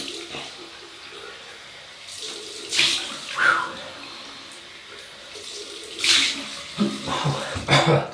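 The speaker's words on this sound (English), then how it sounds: "Cold water now." Cold water runs from a bathroom tap during a wet shave with a double-edge razor, a soft steady stream with louder splashing bursts as the razor or hands pass under it.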